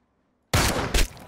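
Gunfire bursts out suddenly in the online shooter game Ring of Elysium after a silent pause, a loud close volley of shots with a second sharp crack near the end.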